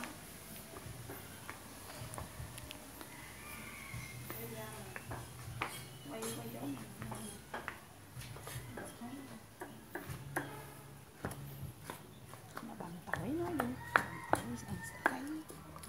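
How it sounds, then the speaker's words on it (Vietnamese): Garlic being chopped with a knife on a cutting board while cooking duck with fermented tofu and coconut water, a steady run of close, sharp taps and clicks with a voice talking over it. "Mình đang sắc tỏi nha."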